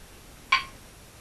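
A home-canned jar of dandelion jelly seals its lid with a single sharp, bright metallic pop, close and clear against a quiet room.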